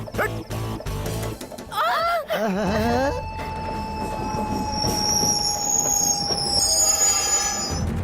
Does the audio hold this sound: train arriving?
yes